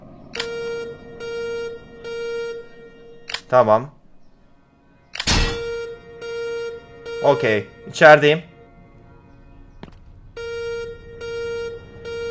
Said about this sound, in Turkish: Şu alarmı artık kapatabilir miyim ya?